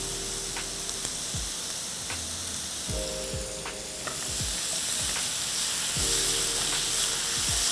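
Pineapple pieces with a little salt and red chili sizzle steadily in melted sugar while a spoon stirs, the frying hiss broken by regular scraping knocks of the utensil against the pan.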